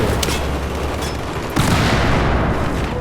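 Battlefield 4 combat roars with dense, continuous explosions and gunfire, a loud sustained barrage with a sharp fresh blast midway that renews the rumbling din.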